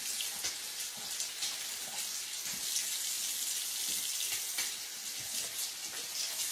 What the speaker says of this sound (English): Then I'm going to start washing. We're going to get these nice and clean.